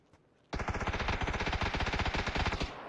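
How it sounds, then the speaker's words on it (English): An M16 rifle in PUBG fires a rapid string of evenly spaced shots at close range, loud and alone for about two seconds after a brief quiet lead-in. "I hate the M16. This thing never fucking connects with any shots"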